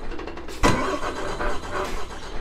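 Damaged 2009 Volvo FH16 truck in Euro Truck Simulator 2 at a toll stop, engine cutting out then cranking and catching again with a sharp burst, settling into a rough mid-pitched idle.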